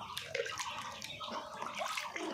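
Ten grams of thiamine medicine mixed into ten litres of water for ducklings, with soft sloshing and gurgling of water being swirled, fairly quiet and continuous.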